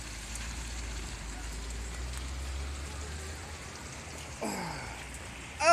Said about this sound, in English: Oh man, it's really raining.